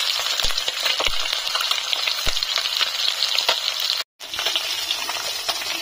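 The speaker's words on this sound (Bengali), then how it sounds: "সব মাছ ভাজা কমপ্লিট হয়ে গেছে।" Small fish coated in light mustard paste frying in a pan: a continuous loud, close sizzle with occasional pops, a brief dropout near the end, and no talk.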